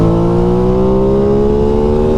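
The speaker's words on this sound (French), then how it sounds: "Le passage des rapports est exceptionnel en shifter dans les hauts tours avec le bruit du moteur." Aprilia Tuono motorcycle engine revving hard at high rpm, loud and close, with steady rising pitch as it pulls through quickshifter gear changes, no speech.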